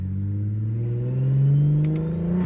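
A straight-piped big-turbo BMW 335is with a new top-mount turbo kit, running low boost on its first drive, drones loud and close with a steady engine note that climbs as it revs, and no voices are heard.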